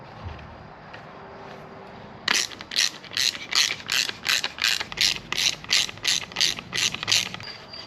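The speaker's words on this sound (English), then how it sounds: "remove these two bolts, replace it with the light, connect it back" A ratchet wrench turns out bolts on a Can-Am Spyder top case, a steady run of sharp clicking strokes, close and clear, after a brief quiet stretch, with no talking.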